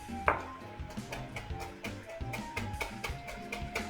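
A knife chops fresh chives, basil and parsley on a board in a home kitchen, a fast run of crisp, close taps with a brief louder knock near the start, heard alone without talk.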